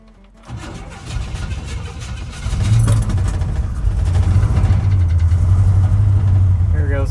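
A 1972 Chevrolet C10 pickup, heard from inside the cab, cranks and then fires into a loud, steady idle that builds and holds a low rumble, with brief voices near the start.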